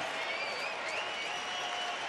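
A baseball stadium crowd applauds and cheers in a steady, dense roar that carries on without a break, with faint voices mixed into the noise.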